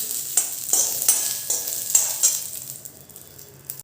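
Green chilies frying in oil, a close, bright sizzle broken by several quick stirring scrapes in a loose rhythm, fading toward the end.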